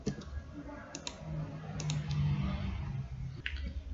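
Scattered light clicks of computer keyboard keys during a coding session, soft and close, a few quick presses over a low room hum.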